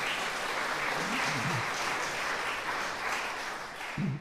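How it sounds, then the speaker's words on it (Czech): An audience applauds musician Vlastimil Konrády in a radio studio setting, a steady wash of clapping throughout, with a brief voice near the end. "Můžete mu ještě jednou zatleskat, Vlastimil Konrády."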